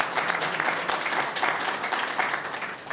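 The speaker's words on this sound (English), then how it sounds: "Round of applause." An audience at a county board of supervisors meeting claps steadily, a dense, even round of applause that fills the room from start to finish with no one speaking over it.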